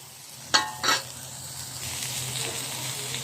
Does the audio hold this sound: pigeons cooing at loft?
no